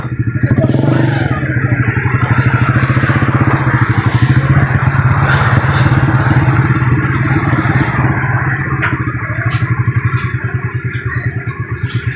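A motorcycle rides into the Gatwala wildlife park zoo in Faisalabad, its engine thrumming steadily and loudly up close for the whole stretch, with a faint clatter over the drone.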